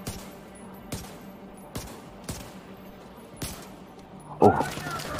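Gunfire in a shooter video game invaded mission, sharp shots popping at intervals of about a second, moderately loud, with a louder burst near the end and quiet talk in the background.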